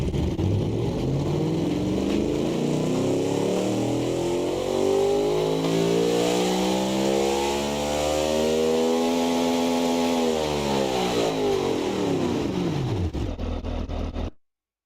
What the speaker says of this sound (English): I've never heard such a terrible engine in my life.